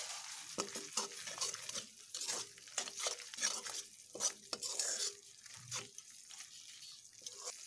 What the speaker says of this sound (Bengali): চিনিগুলোকে দেওয়ার পরে আর একটুক্ষণ আমি কষিয়ে নেব।